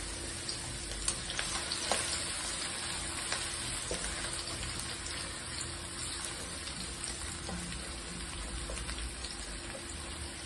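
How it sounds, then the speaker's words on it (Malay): Shallots and garlic sautéing in oil for an egg dhal, a soft, steady sizzle with a few light clicks from stirring, fairly faint and uninterrupted, with no talking. "Kita tumis bawang ya. Bawang kecil dengan bawang putih ya."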